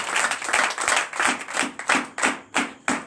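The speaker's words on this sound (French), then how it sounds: "Nous donnons l'acclamation à Jésus." A congregation at a night deliverance prayer service claps in strong rhythmic bursts, close and loud, pulsing steadily with no voices.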